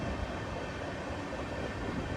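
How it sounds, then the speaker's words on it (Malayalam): Express sleeper train rolling into Anand station in Gujarat, a steady broadband rumble of wheels and carriage noise at moderate level, continuous throughout with no voices. "ഇന്ത്യയുടെ പാൽ തലസ്ഥാനം എന്നറിയപ്പെടുന്ന ആനന്ദിലേക്ക് ഇതാ ട്രെയിൻ എത്തുകയാണ്."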